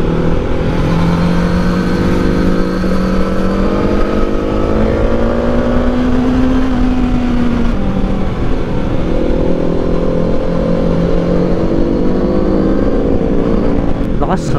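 A 2022 Suzuki GSX-S1000 naked motorcycle rides along a road, its engine droning steadily with rising and falling pitch as the rider shifts through the gears. Someone talks over the engine for the whole ride.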